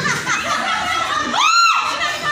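A group of people shout together, loud and close, with a rising whooping cry swelling through the middle amid a noisy crowd-like din.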